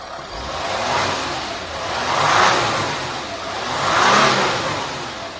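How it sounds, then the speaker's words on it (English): A 2012 Nissan Navara V6 diesel pickup engine running, revved up and back down twice in smooth swells, loud and close with no talking. "I'll just give it a quick rev up and down"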